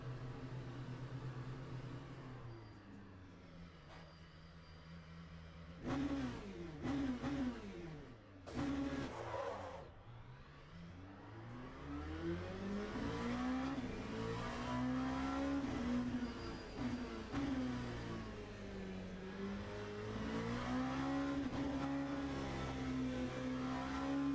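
An LMP2 prototype race car in the simulator game Le Mans Ultimate revs up and down through the gears. The engine whine climbs and falls in smooth sweeps with sharp breaks at the shifts, steady and fairly close, with no talking.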